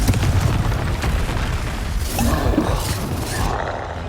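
A Confringo blast spell goes off amid Hogwarts Legacy combat, a dense roaring explosion with crackling debris that stays loud and churning for several seconds.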